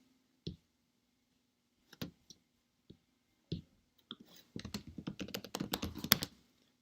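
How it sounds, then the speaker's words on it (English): Someone types on a computer keyboard, starting with a few sparse, isolated key clicks and then breaking into a quick burst of rapid keystrokes, all close and fairly quiet with no voice. "So I'm just going to type in a few things just to see if I can get anything pop up."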